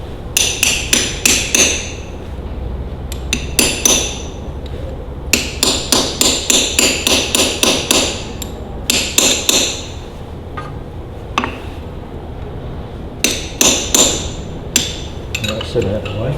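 Sharp metallic hammer blows ring out in quick bursts and irregular clusters as tabs are bent back on a Ferguson TEA20 tractor, each strike bright and close with brief pauses between runs.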